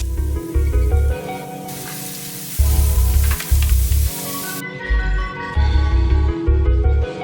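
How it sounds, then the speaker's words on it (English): Onions sweat in a pan with a steady, bright sizzle that continues throughout under loud, rhythmic background music. "We'll go ahead and sweat down these onions, give them a head start before we add in that garlic."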